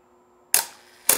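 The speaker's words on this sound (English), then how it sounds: "use the dial up on top to select my shutter speed. I'll start at a half a second." Minolta SR-T film camera shutter firing at a half-second speed, a sharp mechanical click of opening followed about half a second later by a second click of closing, close and loud.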